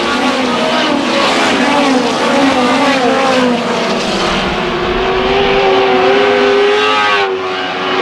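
Race cars roar around Susky speedway, loud engines revving with pitch rising and falling as they pass and chase the leader. The sound is continuous and close, with a sudden drop near the end.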